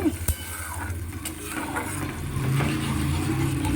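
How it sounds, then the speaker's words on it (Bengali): Chhana and hot water are stirred into a paste in a pan over the stove, with a spoon scraping and a soft, wet sizzle that grows steadier toward the end, and no voices. "একটু মিশিয়ে দিতে হবে ভালো করে ঠিক একটা পেস্ট হবে"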